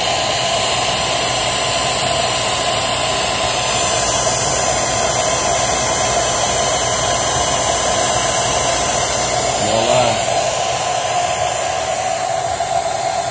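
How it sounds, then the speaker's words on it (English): A blow dryer heats and loosens decals on a Micargi stretch bike, giving a loud, constant close-up roar with a steady high whine that runs the whole time with little change. "Dampen it down, hit it with the blow dryer."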